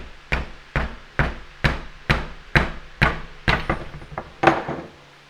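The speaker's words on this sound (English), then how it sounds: "take your hammer, be careful, all right? Don't hit the rim, but hit the sidewall" A hammer strikes a motorcycle tire sidewall about a dozen times in a steady rhythm, each blow a sharp thud with a brief ring.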